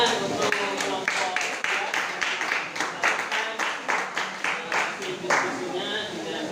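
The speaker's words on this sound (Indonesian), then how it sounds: "Tepuk tangan untuk kelompok" Scattered, uneven clapping from a small group in a classroom discussion session, with individual claps distinct and irregular, mixed with voices talking over it throughout.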